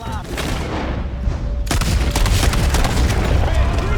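Dense gunfire and booming shots in Red Dead Redemption 2 during a chase, rapid overlapping shots building to a loud continuous volley, with shouting voices mixed in.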